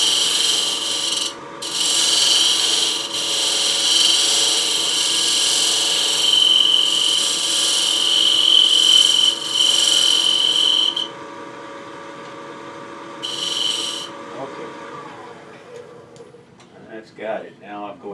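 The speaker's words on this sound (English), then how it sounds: "So I'm going to use this as a scraper." A hand scraper drawn repeatedly across a wooden clamshell box, giving a steady close rasping scrape that runs continuously, then stops with a short final pass and some light handling noises.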